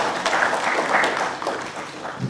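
A conference audience clapping after a presentation at a university international conference, a dense, steady round of applause from many hands in a hall, sustained and fading slightly at the end.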